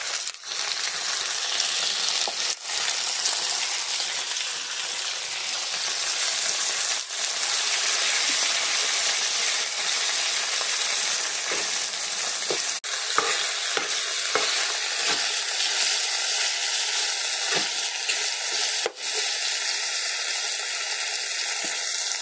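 Shrimp with garlic, onion and green chilli fry in oil while being stirred, a loud steady sizzle with scraping and clinks of the spatula throughout.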